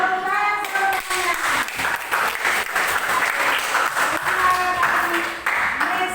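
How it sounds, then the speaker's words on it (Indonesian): Audience applause in a classroom-style gathering, brisk continuous clapping from many hands, with a voice heard over the start and scattered vocal sounds mixed into the crowd noise. "Tepuk tangan"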